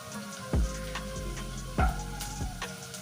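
Onions turning golden brown in a pan for a greens-and-beef dish give a steady close sizzle, broken by a few low thumps and scrapes of stirring at irregular intervals, with no talking.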